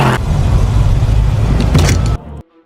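A car driven across an open field on a test run, its engine a steady, loud, close roar for about two seconds before it cuts off abruptly into near silence.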